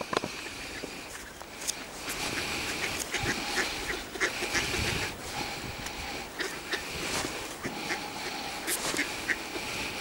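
Wild ducks being fed outdoors, quacking repeatedly at close range in a busy, overlapping chorus, with footsteps and light rustling around them.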